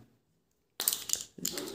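Packaging for a Beyblade Raphael toy is torn and crinkled open, a burst of close plastic and cardboard rustling after a silent start, briefly pausing before continuing.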